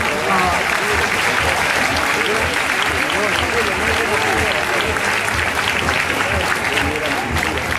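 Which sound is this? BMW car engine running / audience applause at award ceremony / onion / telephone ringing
audience applause at award ceremony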